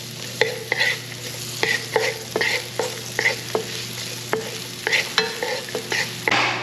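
Garlic fries in a pan with a close, steady sizzle, broken by regular scraping stir strokes about every half second, with no voices.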